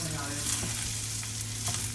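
Two pounds of long enriched white rice sautés and browns in a pan for Spanish rice, giving a dense, even sizzle with faint stirring scrapes, close and unbroken throughout.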